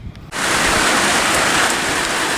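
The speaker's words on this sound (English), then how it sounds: "Sarah Hosanna, Germany, what are you doing walking around in the rain?" Steady rain falls outdoors, a loud dense hiss of drops on surfaces that starts abruptly after a short quiet moment and continues without a break.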